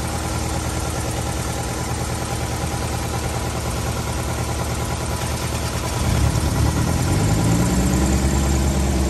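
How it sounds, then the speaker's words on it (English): A 2007 Nissan Altima 2.5 S idles close by with a steady, even hum, and a deeper rumbling drone swells in partway through. "Engine's running."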